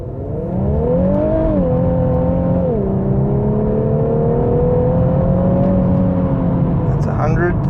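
A 2018 Infiniti Q50 Red Sport sprints 0-100 km/h, the engine's loud droning whine climbing steadily through the gears with a brief drop at a shift, heard from inside the cabin.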